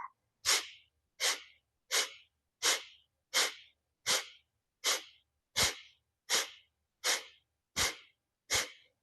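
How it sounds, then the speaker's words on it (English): Twelve forceful Kapalabhati pumping exhalations through the nose, sharp and breathy bursts in a steady drumbeat rhythm about every three-quarters of a second, close and clear with no talking. "snap the belly to the spine and forcefully exhale the rest of the air"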